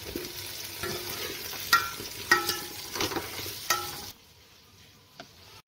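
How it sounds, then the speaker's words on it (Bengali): Pointed gourd and eggplant pieces frying together in oil, a soft sizzle broken by spatula scrapes and taps, which stops abruptly near the end, leaving quiet. "পটল বেগুন একসাথেই ভেজে নেব আমি।"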